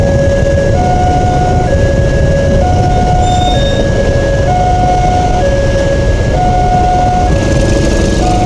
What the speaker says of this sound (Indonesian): Oh, ini dia keretanya dari kiri.